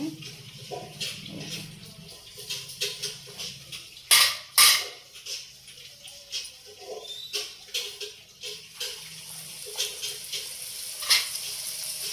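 Puris fry in hot oil, giving a close, crackly sizzle with irregular bubbling pops and a few sharp clinks of utensils against the pan.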